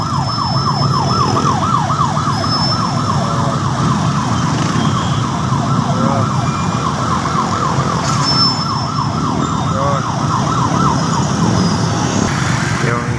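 An ambulance siren wails continuously in a rising and falling cycle, loud and close, over the rumble of road traffic.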